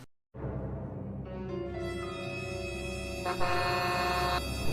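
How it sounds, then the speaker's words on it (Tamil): A loud, sustained vehicle horn blares close by outside a house, one long unbroken honk that starts abruptly and holds for several seconds. "நம்ம வீட்டு வாசல்ல ஹார்ன் அடிச்சிட்டு இருக்கேன்"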